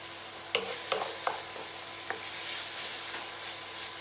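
Onions sauté in a pan for chicken korma with a soft, steady sizzle, punctuated by several sharp clinks and scrapes of a utensil stirring against the pan.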